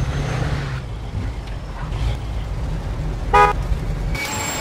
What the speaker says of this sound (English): Okay, now honk your horn.